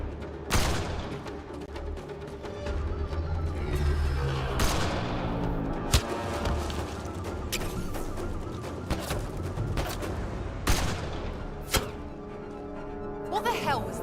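Gunfire rings out in a Mass Effect: Andromeda firefight, several spaced loud shots and booms cutting through a busy combat soundscape with background score.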